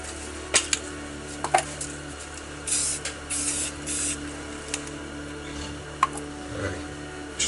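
Short bursts of spray paint hiss from a can, misted around a cap used as a circle stencil, coming in several separate puffs alongside light clicks and taps.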